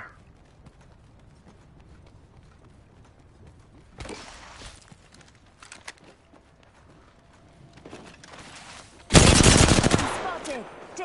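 Bursts of video game gunfire, scattered rapid shots followed by a loud sustained volley near the end, close and dominant over quiet background.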